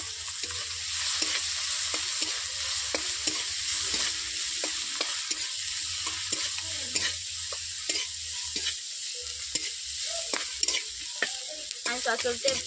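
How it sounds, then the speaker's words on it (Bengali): Chopped onions and panch phoron sizzle in fish oil with dried red chillies in a pan for a spinach latpoti, a steady close frying hiss broken by repeated spatula scrapes and taps. "এরপর দিয়ে দিচ্ছি পাঁচ ফোড়ন এরপর দিয়ে দিচ্ছি পেঁয়াজ কুচো"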